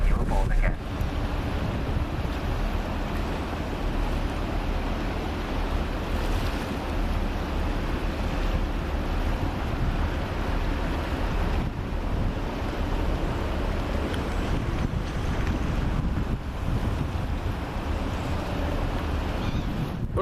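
A Mersey Ferries boat crossing the River Mersey, heard as a steady broadband rush of wind and water with engine rumble, loud and continuous throughout without clear speech.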